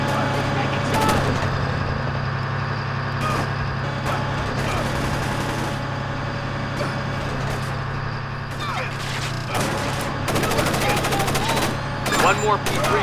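Bursts of automatic gunfire in the stealth video game Splinter Cell Chaos Theory, sharp cracks and rattling volleys scattered over a low steady background hum, with shouted voices in between.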